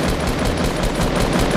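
Rapid automatic gunfire in a shooter game, a dense, continuous burst of loud, evenly spaced shots with no pauses and no talking.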